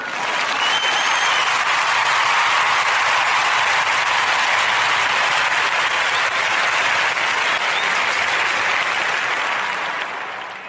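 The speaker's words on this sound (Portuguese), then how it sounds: "Merece uma salva de palmas." A large audience bursts into sustained, loud applause, a dense wash of many hands clapping that holds steady for about ten seconds before easing slightly at the end, with no talk over it.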